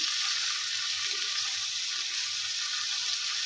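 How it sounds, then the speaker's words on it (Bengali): Ash gourd leaf stalks sauté in a pan, producing an even, continuous hiss of frying oil at moderate level, unbroken and without speech. "ডাঁটাগুলো একটু আগে থেকে কষিয়ে নিলে তাহলে এর স্বাদটাও কিন্তু অনেকটা বেড়ে যায়"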